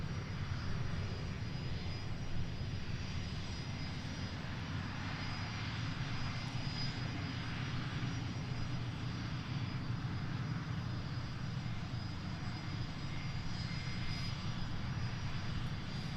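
Pilatus aircraft departing Boeing Field, a steady engine drone holding at constant loudness throughout, moderately distant, with no voices over it.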